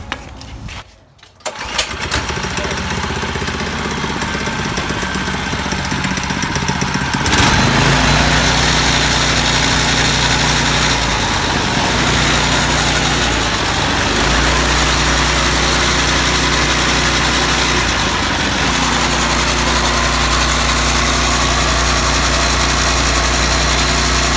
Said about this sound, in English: So yeah, let's fire up this engine.